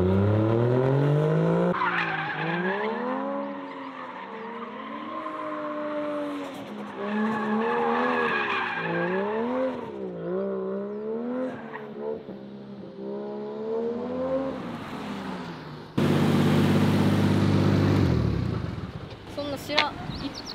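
A car accelerates hard at a drift training session, its engine revving up and down in rising and falling sweeps before a loud, rough burst of tire skidding near the end.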